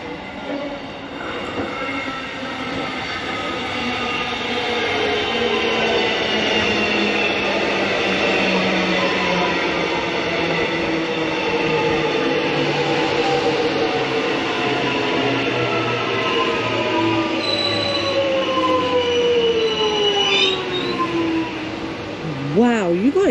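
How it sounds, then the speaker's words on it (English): A city-bound commuter train rumbles steadily closer to platform 1 for a long stretch, its pitch sliding down as it slows, ending with brakes squealing near the platform. "we got the city-bound train approaching platform 1."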